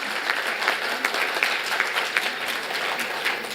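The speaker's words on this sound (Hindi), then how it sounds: "जोरदार ताली हो" An audience at a Atal Bihari Vajpayee birth anniversary event applauds in his honour, a dense, sustained roar of clapping filling the whole stretch evenly.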